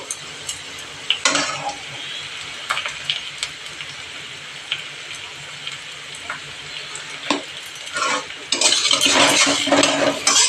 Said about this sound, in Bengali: এই দেখো পেঁয়াজগুলো একটু লাল লাল ভাজা হয়েছে